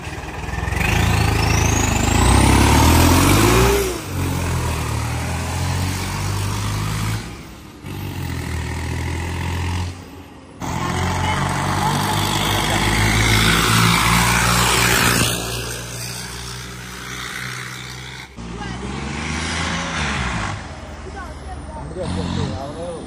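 A Swaraj Turbo tractor fitted with a front loader runs loudly near the listener, its engine revving up and dropping back in several surges with harmonic tones that rise and fall, while people talk and shout nearby.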